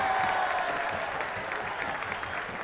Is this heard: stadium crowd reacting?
yes